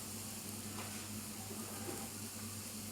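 Chopped banana flower sautés in a pan with a steady, faint hiss of frying, broken by a brief stir partway through.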